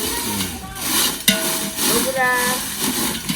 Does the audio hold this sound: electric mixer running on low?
no